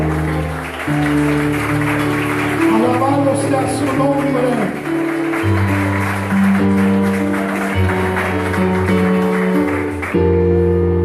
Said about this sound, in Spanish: Alguien puede darle un aplauso al Señor en esta hora